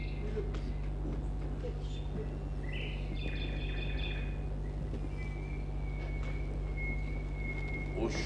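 Faint bird chirps and tweets sound over a steady low hum and background voices during a 1999 Kumyk stage performance from Dagestan, with brief high calls recurring through the scene.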